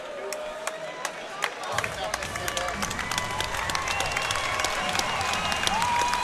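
Crowd applauding at a kickboxing event as a fighter gets back up, steady clapping with scattered cheers building to a sustained, moderately loud wash of applause.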